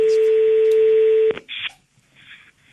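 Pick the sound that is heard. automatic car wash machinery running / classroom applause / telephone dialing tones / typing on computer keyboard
telephone dialing tones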